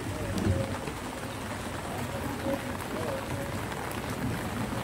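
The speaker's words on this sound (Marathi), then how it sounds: "खूप पाऊस पडत आहे आज." Heavy monsoon rain patters steadily on surfaces under dark, cloud-filled skies in a waterlogged neighbourhood, a constant close hiss with faint bird calls and occasional splashes.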